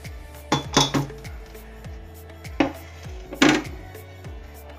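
A metal cooking pot is handled while maida dough for sweet puri is prepared, giving several sharp clanks and clinks with ringing decay, close by, with no talk.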